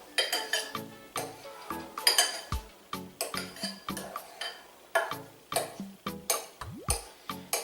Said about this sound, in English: The easiest thing to do is you take a butter knife and you just kind of cut it up.